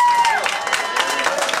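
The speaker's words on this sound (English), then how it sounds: "please give her a big round of applause" Applause and cheering from a crowd at a 35th anniversary celebration, with a brief tone fading at the start, steady clapping continuing throughout.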